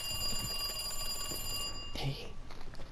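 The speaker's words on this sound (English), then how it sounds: "Ooh, phone call." A phone rings in the Resident Evil 2 video game, a bright electronic trill sounding steadily for over a second before cutting off, with faint voice sounds nearby.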